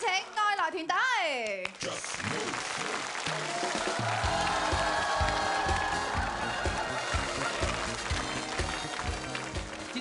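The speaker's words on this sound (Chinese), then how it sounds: "掌声有请爱来团队。" A studio audience breaks into dense, steady applause as a comedy team is welcomed onto a Cantonese variety show stage, the clapping loud and sustained after a brief burst of voices and music at the start.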